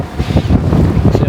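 Strong wind buffets the microphone in a steady, loud rush on a Maldives island resort near Malé, with low rumbling gusts throughout and faint water or surf underneath.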